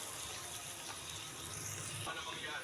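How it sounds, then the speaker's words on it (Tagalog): Water poured into a pot of simmering pork menudo with tomato-based menudo sauce, a steady, close gushing flow that runs for a few seconds. "maglagay tayo ng tubig."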